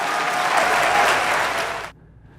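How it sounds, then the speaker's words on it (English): Raucous applause from a crowd after a political speech, loud and full for nearly two seconds before cutting off abruptly into near silence. "she's getting raucous applause"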